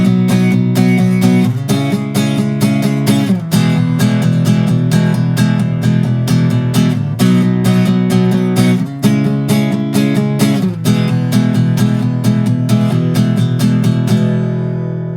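Guitar strumming the closing chord progression of a song, a continuous close run of rhythmic strums with regular chord changes, ringing out at the end.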